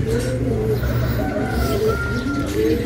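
Pigeons coo repeatedly in a loft, a steady run of soft, low, rolling calls from several birds close by, with a constant background hum and no talking.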